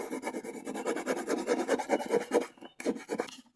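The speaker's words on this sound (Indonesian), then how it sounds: "Kita tumpulkan menggunakan amplas" Sandpaper rasps in quick, rhythmic back-and-forth strokes over the sharp edges of a PVC pipe speaker horn, a close scratching that stops briefly near the end.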